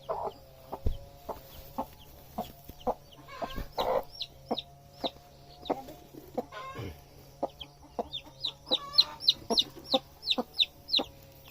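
A hen on a farm clucks steadily in short, rhythmic pulses, close and fairly loud. Now and then she breaks into rising squawks and brief cackling runs. No voices are heard.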